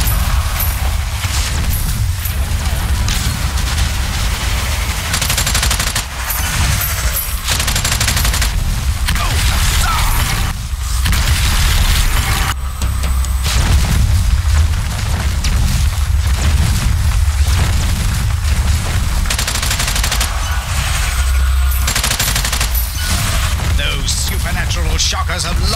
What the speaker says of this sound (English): Oh, I say, what wonderful shooting!